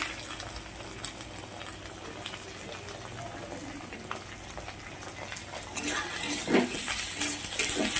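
Onion, ginger-garlic paste and tomato fry for rajma in a pan, giving a steady close sizzle and crackle that swells a little louder near the end, with no voice heard.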